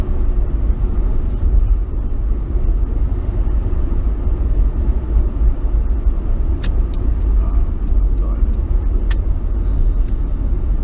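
A car drives fast along a road and pulls out to overtake another car, with a steady loud rumble of engine and road noise throughout and no talking.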